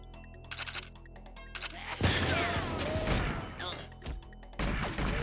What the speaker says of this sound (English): he's shooting around that guy